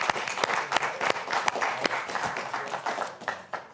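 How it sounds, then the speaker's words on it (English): A club meeting audience claps in a loose round of applause, individual sharp claps standing out over a steady patter, fairly close and with no talk over it. "let's give you a round of applause"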